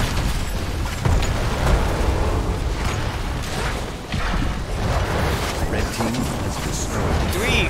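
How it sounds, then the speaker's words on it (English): A fort is destroyed in a Heroes of the Storm match, with continuous crashing and booming destruction over dense battle noise. Game voices talk throughout. "Red team has destroyed a fort."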